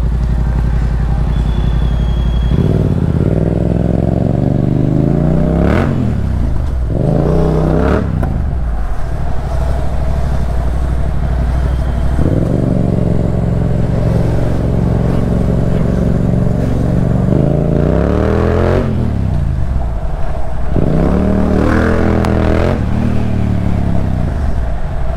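A 700cc motorcycle engine idles loudly and close, its steady drone broken by several revs that swell and fall back over the run, with no talking.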